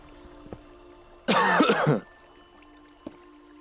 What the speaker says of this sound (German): Entschuldigung, mein Husten hat sich gerade gemeldet.